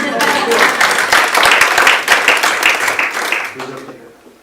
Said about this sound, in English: Hey, round of applause for Anton.